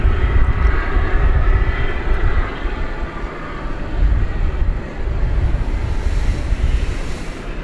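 An airliner, flight 1115 from Philadelphia, rumbles at Dallas-Fort Worth International Airport at night, a loud continuous jet roar that swells and eases slightly, heard alone with wind buffeting the microphone.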